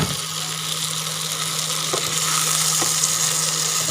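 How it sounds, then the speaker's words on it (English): Potato pieces shallow frying in oil in a pan, giving a steady, even sizzle with a faint hum underneath and no talk. "So you can see the potatoes are shallow fried"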